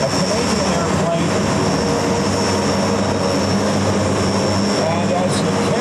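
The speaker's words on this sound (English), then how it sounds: "as he flies his de Havilland Super Chipmunk, a Canadian airplane," A de Havilland Super Chipmunk, a Canadian propeller airplane, flies at an airshow while skywriting. Its engine and propeller make a loud, continuous drone that holds steady throughout, with a voice talking over it.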